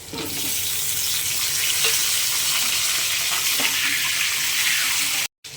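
Sweet potato pieces hitting a hot pan for chicken vegetable soup, then a loud, continuous frying sizzle with stirring, close and steady until it cuts off near the end.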